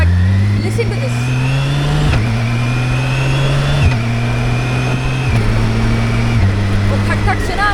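A 1600cc motorcycle engine revs hard and climbs through quick-shifter upshifts, its steady droning pitch dropping sharply at each of about five rapid gear changes, loud and continuous throughout.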